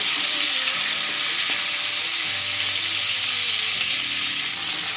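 Tomatoes with a little salt frying in a pan for a fish curry, a steady loud sizzle with occasional stirring scrapes, close and continuous.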